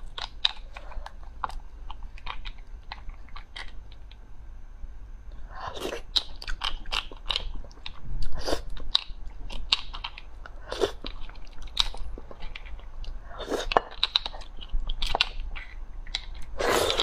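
Close, crisp chewing and biting of braised Chinese beef bone marrow, with repeated wet crunches and smacks, irregular but steady, louder bursts clustered midway and near the end, with no talking.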